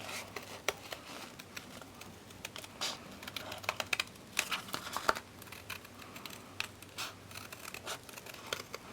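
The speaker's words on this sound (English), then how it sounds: "I'm just gonna cut around the edge." Small scissors snipping paper up close in quick, irregular clicks and crinkles, with no one talking.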